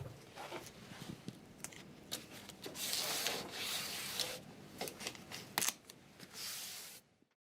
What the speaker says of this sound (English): Take an old dry brush and take away the dirt and debris that might be on the floor.